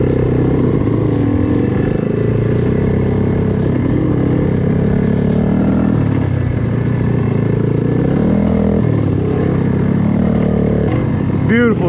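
Dirt bike engine, likely a Yamaha YZ250X two-stroke, revving up through the gears on a trail ride to pass another rider; a steady, loud, rough engine drone with rising pitch swells, recorded close on the bike.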